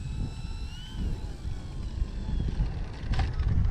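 A Durafly Tundra RC plane's electric motor hums and whines in shifting throttle while landing into heavy wind, with rumbling wind buffeting the microphone throughout.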